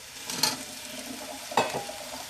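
Potatoes being stirred into a tomato curry in a pan, with two soft scraping stirs over a low, steady sizzle of frying, fairly close and without voices.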